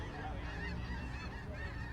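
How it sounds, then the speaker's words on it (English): A flock of birds honks continuously outdoors, a steady dense chorus of goose-like calls over background noise without a break. "Hey, look at them birds, bro."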